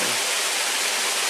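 A small waterfall in the town of Blowing Rock: a steady, broadband rush of falling water, fairly close and even, with no voices over it.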